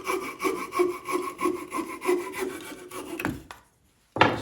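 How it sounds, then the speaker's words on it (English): A hand-held coping saw cuts a wood blank for a miniature nuthatch carving in quick, rhythmic rasping strokes for about three seconds, then stops, followed by a short pause and a brief knock. "A coping saw is a pretty inexpensive hand tool"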